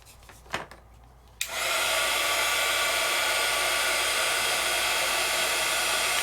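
After a couple of brief taps and clicks, a heat tool switches on with a sudden whoosh. It blows air at a steady, loud, broadband hiss while warming metallic pigment ink, and it keeps going evenly for several seconds.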